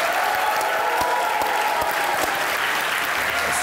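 Indoor studio audience applauding to welcome poet Syed Salman Gilani on a talk show, dense continuous clapping that stays loud and even from start to finish.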